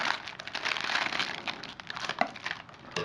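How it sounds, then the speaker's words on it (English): A bag of chips, already a bit crushed, crinkles and crackles steadily as it is cut open and worked at the top, with a few sharper crunchy accents, close and fairly loud throughout. "Just open this package as much as possible."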